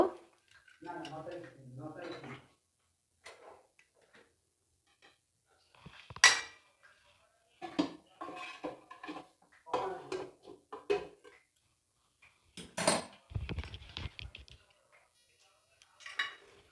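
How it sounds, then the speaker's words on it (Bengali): Metal clinks and scrapes as the gasket is pulled from a pressure cooker fitted with an inner stand, set up for baking an eggless orange cake. The clinks come in short, close bursts separated by quiet gaps. "প্রেসার কুকারের এই গার্ডারটা বের করে দেব।"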